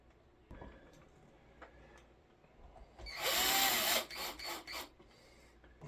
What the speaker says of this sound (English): So let's put all our screws back in the pickguard here.